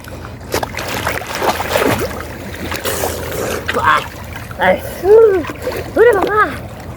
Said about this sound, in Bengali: এবার ডুব দিচ্ছি পদ্মা নদীতে